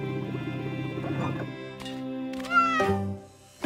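A small cartoon kitty meows several times, the cries rising and wavering, heard close against a quiet background hum.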